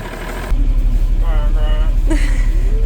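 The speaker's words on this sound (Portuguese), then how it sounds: "Primeira vez que ligo o ônibus depois de mexer." A bus engine turns over and catches after repair work, jumping into a loud, steady low rumble that keeps running while someone talks over it.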